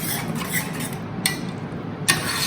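Stirring pasta sauce in a pan, with a spoon scraping and clinking against the metal in a few irregular strokes under faint frying hiss.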